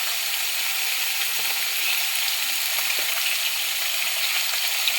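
Garlic tempering sizzling in hot oil, a dense, constant, even crackling hiss up close with a few faint spatula touches, no voices.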